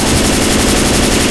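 Automatic gunfire in Left 4 Dead 2 aimed at the Tank, a loud, close, continuous rapid burst filling the whole moment.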